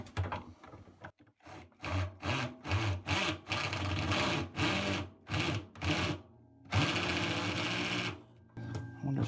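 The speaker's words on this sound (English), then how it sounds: "Tighten it up with an electric screwdriver." An electric screwdriver tightens a part on a Bosch washing machine during a bearing replacement, whirring in a rhythmic series of short, loud pulses with a longer run near the end, close up and with no talking.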